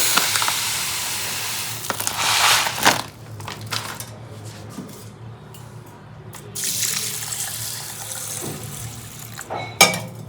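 Tap water gushes into a bowl of urad dal set to soak, a loud splashing pour in bursts with quieter rinsing and dripping between, no talk.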